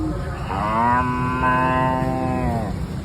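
A voice imitates a buffalo mooing, with two long drawn-out low calls following each other closely, loud and near, and no other talk.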